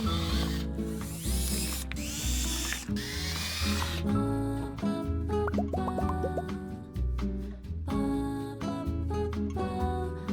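Power drill whirring in repeated bursts up close, with short pauses and a ratcheting, mechanical whine as each hole is bored.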